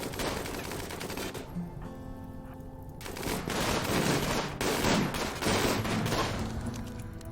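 Rapid gunfire in a Rimworld colony battle, dense crackling bursts of shots that build into a heavier, louder volley over a few seconds with no talk.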